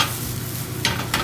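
Arborio rice base sizzling in a pan over medium heat while being stirred: a steady close frying hiss with two brief scraping strokes near the end.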